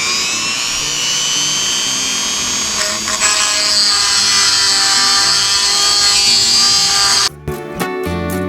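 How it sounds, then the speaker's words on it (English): A chainsaw chain sharpener grinds a chainsaw blade with a loud, continuous high-pitched whine for about seven seconds, then cuts off abruptly, leaving a few brief clattering noises. "specifically for sharpening chainsaw blades"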